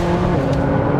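A 2016 McLaren 675 LT track car drives on a circuit, its engine holding a loud, steady, close-up drone with no gaps.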